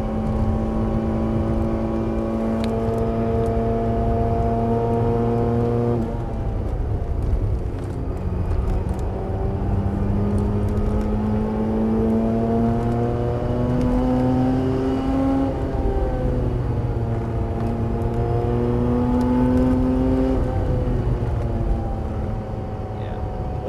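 A Mazda RX8 rotary engine revs continuously on a Nordschleife lap, rising in pitch through long gears with steady shifts and a loud in-car drone, with faint talk underneath.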